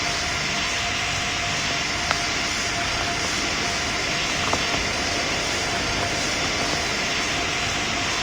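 A fixed-wing airliner's engines roar steadily during takeoff in the PTFS flight game, a constant broad wash of jet noise with no speech over it.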